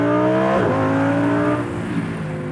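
A Lamborghini Huracan Evo engine revs loudly and close up, its pitch sweeping and then dropping as a gear shifts. A steady exhaust note follows, with faint crackles in the tail.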